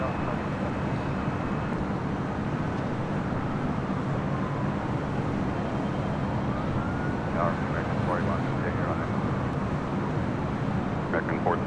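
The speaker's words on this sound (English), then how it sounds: "How about a Dreamliner? Departing on 6 right." A Boeing 787-9 Dreamliner, a United flight bound for Denver, rolls for takeoff on runway 6 right at LAX at night. A steady, broad engine roar fills the whole stretch, with faint higher whines rising and falling near the end.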